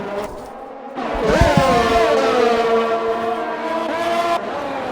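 Racing cars in a video game race, with a Ferrari pulling away from a Red Bull: loud, steady engine whine with rising harmonic tones, and a brief squeal or skid near the start, continuous throughout.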